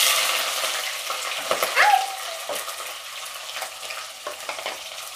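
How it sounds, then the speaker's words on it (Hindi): Green chilli and onion hitting hot oil with cumin seeds, a loud spitting sizzle that fades into steady frying, with brief stirring scrapes and clinks. "अब हम इसमें मिर्च और प्याज भी डाल देंगे"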